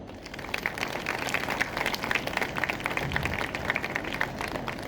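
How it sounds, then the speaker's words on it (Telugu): Audience at an ashram anniversary evening celebration applauding, a steady dense clapping sustained throughout, fairly close and without talk over it. "Come on claps."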